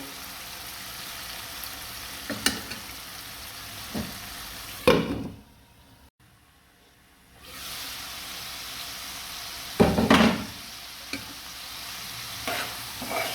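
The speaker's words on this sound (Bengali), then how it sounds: "এখন আমি এখানে চিংড়ি মাছ খোসা ছাড়িয়ে ছোটো ছোটো করে কেটে নিয়েছি, এটা দিয়ে দিব।" Chopped, peeled shrimp sizzle and get stirred in a pan, a continuous frying hiss broken by several loud scraping knocks and a brief near-silent pause midway.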